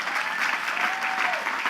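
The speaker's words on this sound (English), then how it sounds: "Let's give them a big round of applause." A commencement ceremony crowd at Queens College claps steadily, a dense wash of applause throughout, with a faint tone briefly sounding beneath it.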